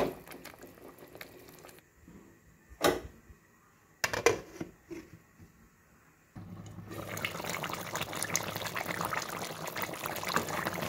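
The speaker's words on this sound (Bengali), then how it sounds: "এই পর্যায়ে পরিমাণ মতো পানি দিয়ে দেব" Water is added to a village-style chicken curry while it cooks. A few quiet clinks and small splashes come first, then a steady pouring and bubbling rush takes over for the last few seconds.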